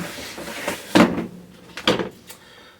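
Old storage drawers full of bicycle parts being pulled open, giving a few brief wooden knocks and scrapes, with two sharper clunks about a second apart, heard close up with no talking.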